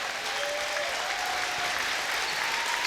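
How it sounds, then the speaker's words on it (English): A basketball crowd in a high school gym applauds the seniors at a boys section final, with steady, dense clapping that fills the whole stretch at an even level, plus faint whistling tones. "these seniors can get a nice round of applause"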